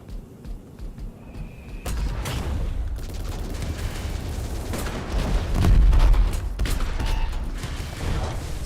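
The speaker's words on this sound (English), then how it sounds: "Okay, that's a grenade." A grenade blast in the game Battle Steed: Gunma, a broad, heavy rumbling boom that swells midway amid continuous clattering game noise and mechanical sounds, with no talk over it.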